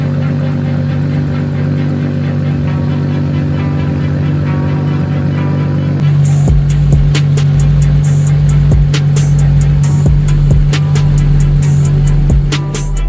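Fully built Nissan Skyline R33 GTS with a one-off custom exhaust, idling with a steady low drone before the revs rise at six seconds into a louder, harder engine note with sharp crackles, close and without talk.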